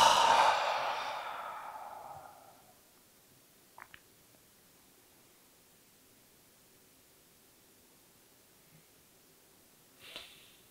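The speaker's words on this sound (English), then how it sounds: "Now last deep breathing," A slow, deep breath during meditation opens the clip as a loud, airy sigh-like exhale that fades over about two seconds, followed by quiet room tone, a couple of faint ticks and a soft breath near the end.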